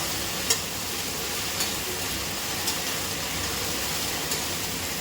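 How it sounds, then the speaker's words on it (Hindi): Okra sizzles steadily in hot oil while it is stirred in a home kitchen, a dense continuous frying crackle broken by a few faint clicks of the spoon. "इधर मैंने तेल में भिंडी डाल दी, अब इसको हल्की हल्की चलाती रहूँगी"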